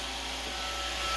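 Roomba robot vacuum running in a home, a steady whirring hum with brushy broadband noise, continuous and fairly close throughout the short moment.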